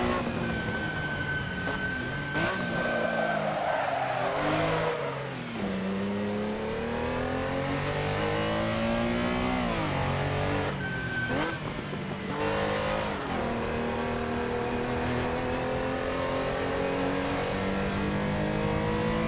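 Car engine in the racing game Assetto Corsa, played on PS4, revving and shifting continuously for about twenty seconds, pitch climbing and dropping through the gears, loud and steady with no talk over it.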